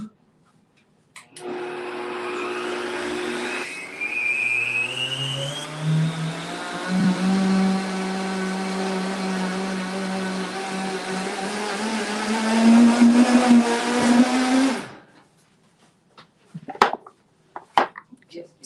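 A blender blitzing a raw vegan bagel mixture, its motor whining up steadily in pitch for about thirteen seconds before cutting off abruptly, followed by a few clattering knocks.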